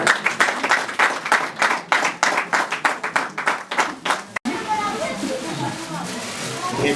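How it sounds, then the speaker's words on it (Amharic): Guests clap in a steady burst of applause at Aman and Konjit's wedding ceremony, close and lively for several seconds before breaking off into a softer murmur of crowd noise and scattered movement. "ጭብጨባ ያንሳል።"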